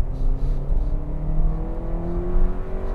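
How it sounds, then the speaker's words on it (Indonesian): A Hyundai Stargazer accelerating hard in sport mode with its CVT roaring, a steady loud droning engine note rising gradually in pitch from inside the cabin. "sebenarnya dari CVT-nya dia ngeraung banget"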